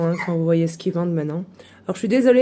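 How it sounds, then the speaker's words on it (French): A Sharplanin shepherd dog, shut away indoors, barks and whines in the background while someone talks over it throughout. "derrière il y a mon chien qui aboie"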